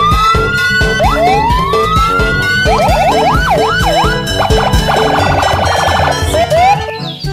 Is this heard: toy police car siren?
yes